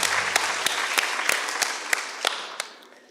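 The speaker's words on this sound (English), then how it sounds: "Please give them a round of applause." Audience applause at a school debate competition, a dense burst of clapping with a few sharper individual claps, gradually fading over three seconds.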